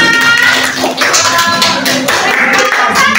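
A group of teachers at a school coaching session bursts into loud, continuous applause, with dense overlapping claps filling the whole moment and voices mixed in.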